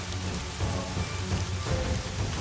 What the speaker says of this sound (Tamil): தயவு செஞ்சு இந்த மழையை நிறுத்திடு